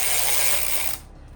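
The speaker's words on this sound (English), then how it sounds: "this is the part where we're all going to go offline now because it gets so noisy because you can't hear with whisks" Electric whisks beating Japanese cheesecake batter, a loud, even, high-pitched mechanical whirr that cuts off abruptly near the end, leaving quiet room tone.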